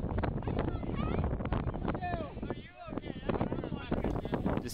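Wind buffets a microphone outdoors at a gathering of Michigan Bronies and Pegasisters, a loud rumbling roar with gusty swells, and people talk over it throughout.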